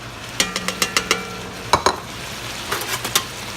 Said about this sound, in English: We're going to add the onions.